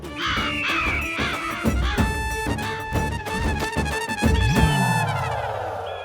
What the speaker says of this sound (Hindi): आंखें खोलिए, कौवे आ गए।